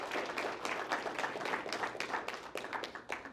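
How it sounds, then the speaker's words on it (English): Audience applause during a college-bound summit speech, brisk uneven clapping from a crowd with distinct individual claps audible throughout. "Applause, yes."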